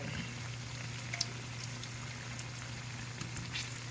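Banana fritters frying in a pan on a home stove, giving a steady, dense sizzle and bubble of hot oil close by, continuous with a few faint crackles and no talking.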